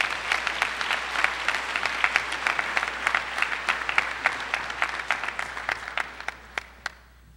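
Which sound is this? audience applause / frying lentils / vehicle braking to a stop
audience applause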